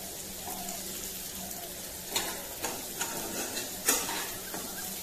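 Peas and vegetables fry in a pan with a soft, steady sizzle, broken by a few light stirring scrapes and taps near the middle and end, faint and without talk.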